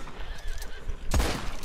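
A horse neighs in a video game, a short whinny near the start followed by a louder snort or neigh burst, with faint hoofbeat-like thumps and no voices.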